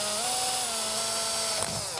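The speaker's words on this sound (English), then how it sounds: "Piece is all chucked up here so I can drill a hole through it." Power drill boring a hole through a costume piece held in a chuck, with the bit lubricated after a center punch start; a steady whining motor tone runs throughout, close and fairly loud, with a brief change near the end as the bit breaks through.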